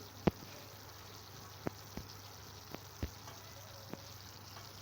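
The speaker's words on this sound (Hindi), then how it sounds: "तो हमारी सूजी यहाँ पर अच्छे से फ्राई हो रही है।" Semolina for pumpkin halwa fries in a pan over a medium flame with a faint, low sizzle, and a few sharp clicks and taps of a spoon stirring it, heard alone.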